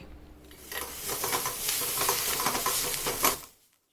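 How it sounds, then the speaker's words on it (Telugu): Tomatoes fry in a pan, a close, continuous sizzle mixed with stirring scrapes that swells for about three seconds before cutting off abruptly, with no one talking. "ఇప్పుడు ఈ టొమాటోల్ని బాగా వేగనివ్వాలి"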